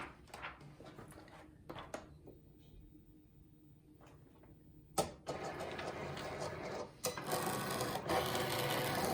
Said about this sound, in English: All right, so I think we're ready to get our mat into our Cricut machine to cut.